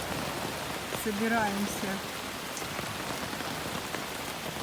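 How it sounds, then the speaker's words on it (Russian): Steady rain falls on a rainy day in the Maldives, a constant close patter and hiss on surfaces. A voice speaks briefly near the start. "А сегодня идет дождик."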